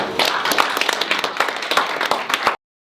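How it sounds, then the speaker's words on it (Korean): A crowd claps for a couple of seconds, a dense patter of hands that cuts off abruptly. "큰 박수로 환영해 주시기 바랍니다"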